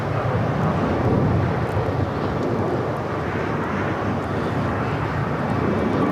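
An airplane going around at LAX airport makes a steady, broad jet roar at moderate distance, holding even and unbroken throughout.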